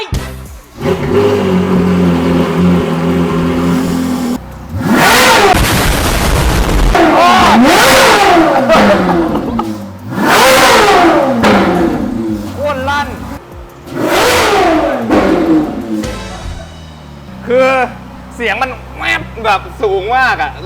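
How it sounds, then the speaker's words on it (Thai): A Ferrari 488 Pista's engine revs hard in repeated loud, rising high-pitched bursts as the car accelerates through gears, with brief lulls between pulls and people talking over it. "ด้วยเฟอร์รี่มันเป็นเสียงแบบไฮพิชอะเสียงมันจะแบบ โคตรลั่น"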